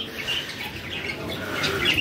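Busy high-pitched chirping from many small birds, steady and close, over a constant airy hiss.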